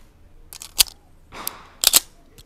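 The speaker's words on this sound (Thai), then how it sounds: "เดี๋ยวผมจะยิง6นัดให้ดูนะว่ากลุ่มอะไรเป็นยังไงบ้าง" Pistol shots fired at a target about 10 metres away during IPSC practice, sharp cracks in quick succession with a few spaced bursts, close and loud, no talking.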